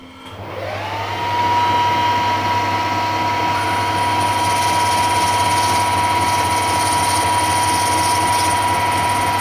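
Metal lathe boring with a boring bar while making a 5 tpi tandem ACME tap: a steady motor whine ramps up in the first second and then holds a constant drone with faint high cutting hiss, no voices.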